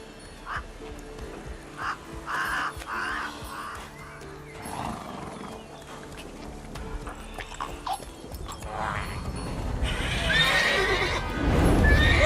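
Roach, a horse in The Witcher 3 game, whinnies several times with hoof clip-clops among outdoor ambience, and the sound grows louder toward the end.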